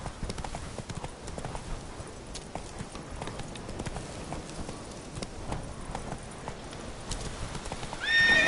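Roach, a horse in The Witcher 3 video game, gallops with steady rapid clip-clop hoofbeats throughout, loud and close, with a whinny near the end.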